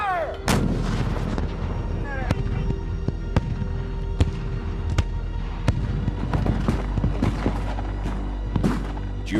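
Civil War cannon artillery firing in a battle scene, a rapid sequence of loud booming blasts and sharp cracks, some near and some distant, layered with rumbling echoes across the whole stretch, without talk.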